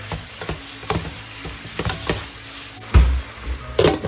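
A spoon stirs chicken glass noodle soup in a pot right after fish sauce goes in, giving soft repeated scrapes and clinks over a low simmer, with a louder knock near the end.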